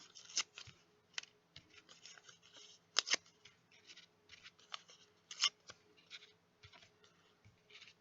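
Green paper being torn into strips for a watermelon craft, soft crisp rips and rustles in irregular bursts, close and quiet with no talking.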